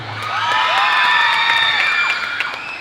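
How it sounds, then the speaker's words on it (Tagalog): A festival crowd at the Dinalupihan Tubig Festival cheers, whoops and shouts loudly, a steady wall of high excited voices with scattered claps and whistles, sustained throughout without a single speaker. "palakpakan nyo po na may halong sigawan"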